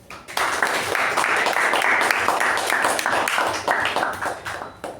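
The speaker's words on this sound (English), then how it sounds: "let's have a huge round of applause for both the speaker and the evaluator" A meeting audience applauds a speaker and an evaluator together, many hands clapping in a steady, dense wash that starts almost at once and carries on for about five seconds, thinning slightly toward the end.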